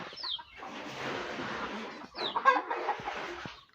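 Chickens clucking in the yard of a family house in Ubon Ratchathani, Thailand, in two busy bursts of overlapping close clucks with a short lull between them and no talk.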